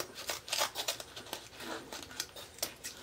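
Scissors cut through ribbon mesh fed across a piece of cardboard, giving faint, close snips and crisp rustles in a quick, uneven series.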